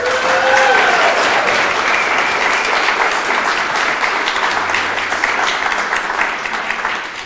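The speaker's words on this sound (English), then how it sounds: "You may now applaud." Loud, sustained audience applause at a gala evening, many hands clapping in a dense wash with a brief voice or cheer at the start, tapering near the end.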